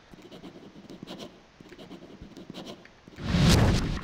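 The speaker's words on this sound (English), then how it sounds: "It sounds like a ballpoint pen scribbling away on a sheet of paper." In the video game Corpse Party, a ballpoint pen scratches away on paper in quick, soft strokes, followed by a louder, rough burst of noise near the end.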